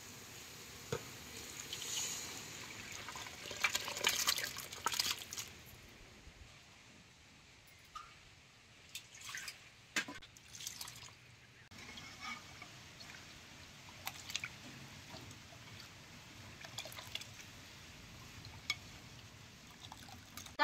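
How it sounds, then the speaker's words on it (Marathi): Water is poured into a sizzling masala of spices frying in oil for a spicy mutton rassa curry. A close, steady hiss and crackle of frying runs throughout with uneven splashy bursts, and nobody speaks. "आईने पाणी आता यात ओतून घ्यायचं"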